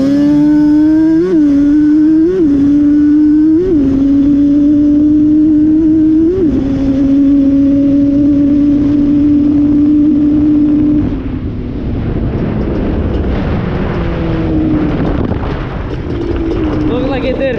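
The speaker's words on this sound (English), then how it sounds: "Give it a little race. Second gear pull." A Yamaha Banshee 350 ATV revs hard through a second-gear pull in the dunes, its two-stroke engine climbing in pitch with sharp gear-change blips before fading as it moves away, loud and close with some wind noise.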